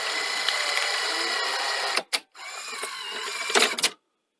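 A Sony SL-C30 Betamax video recorder runs with a steady mechanical whir, then cuts off briefly before a rattling clunk and clatter as the tape ejects, ending in silence. The sound is close and has no talk over it.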